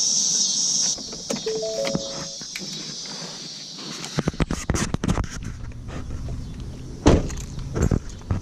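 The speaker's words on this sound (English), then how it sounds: "if I double lock it, you can hear the locks actuate" A Ford Interceptor Utility's door locks actuating, a string of close mechanical clunks and clicks after a high electronic whine fades, with no voices.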